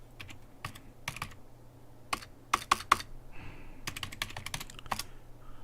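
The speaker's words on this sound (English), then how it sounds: "Chucky's got to get his typing straight" Typing on a computer keyboard, heard as irregular bursts of crisp clicks and clacks, some louder keystrokes standing out, close and alone over a faint hum.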